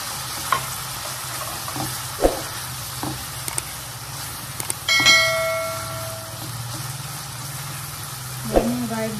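Onion fries in rendered fat in a home kitchen, a steady sizzle running throughout with a few stirring clinks and scrapes and one brief louder surge of frying.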